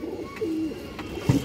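A Dobaj female pigeon coos in a single low, soft warble, fairly close, with a brief louder burst near the end.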